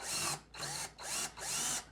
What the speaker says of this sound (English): I have a 6mm drill bit here. We're going to line it up with that little center point there